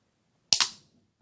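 A toy slingshot launcher from a Jurassic World Gyrosphere play set fires once, giving a sharp, close double snap that decays quickly into silence.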